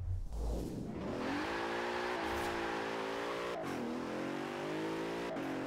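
Bentley Continental GT V8 engine in Forza Horizon 4 revs up and holds a steady, throaty drone, climbing in pitch through gear changes with brief dips, loud and close with no talk.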